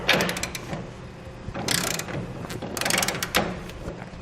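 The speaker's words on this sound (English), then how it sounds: "Now we use a 3/4 inch socket to tighten everything up to the bed." A ratchet with a 3/4 inch socket tightens fifth wheel bracket bolts on a 2018 GMC Sierra 2500, in close, loud bursts of quick clicking separated by short gaps.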